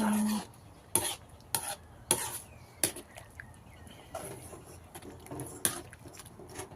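A spoon stirring Isan-style khi lek (cassia leaf) curry with rice in a pot, giving a series of soft, irregular scrapes and knocks against the pot over a quiet background.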